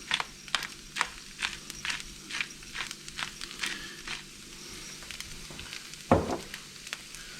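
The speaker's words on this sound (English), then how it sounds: "otherwise I'm just going to let it fry" Potatoes fry in a pan for pyttipanna with a steady background sizzle, broken by regular soft scraping bursts as they are stirred about once a second, then one louder clatter near the end.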